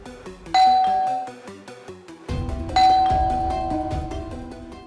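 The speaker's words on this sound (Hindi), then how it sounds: "अभी थोड़ी देर में आपकी डोरबेल बजेगी" A doorbell rings twice indoors at home, each ding-dong loud and clear with a ringing tail, the second press following about two seconds after the first, with no talking.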